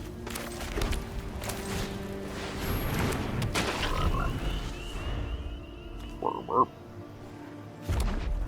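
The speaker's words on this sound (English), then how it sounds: "I like that this card croaks." A Magic: The Gathering Arena card gives a frog-like croak amid busy game effects, a pair of short throaty croaks standing out near the end over a low rumble.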